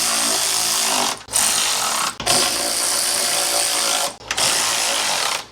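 A powered wrench runs nuts tight on the side pipes of a 1978 Corvette with an L-82 engine, in three or four loud, steady whirring bursts a second or two long, separated by brief pauses.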